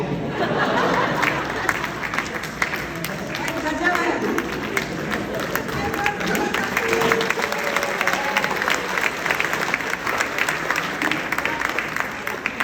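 A comedy show audience claps in a long, uneven round, with scattered laughter and crowd chatter mixed in and a voice talking over the clapping.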